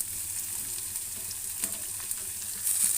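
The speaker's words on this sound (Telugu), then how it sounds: "కరివేపాకు చక్కగా వేపేసుకుందాం" Curry leaves frying in a pan: a steady, dense, close sizzle with faint crackles and a slight swell near the end, no speech.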